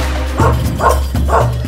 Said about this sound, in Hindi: तिलावर पे भौंकेगा तो मरेगा।